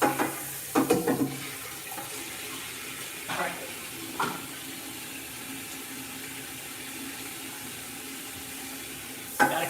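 Water hits a hot pan as it is being cleaned. A few sharp splashes and hisses come first, then a quieter, steady sizzling wash continues, with one more splash near the end.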